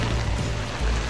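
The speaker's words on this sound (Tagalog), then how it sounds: "sobrang lakas po ng ulan" Heavy rain pounding on a roof, a loud, steady broadband roar with no breaks and no talk.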